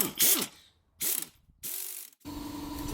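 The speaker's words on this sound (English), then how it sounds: "you can tighten up the spring compressors again" A hand ratchet tightens spring compressors on a coil spring of a 2001-2007 front-wheel-drive Volvo S60 during a lowering-spring install, heard close up as four bursts of rapid clicking, the last a steadier whirring run.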